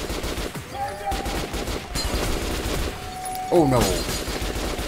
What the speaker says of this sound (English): Just gonna fire a bunch of bullets out there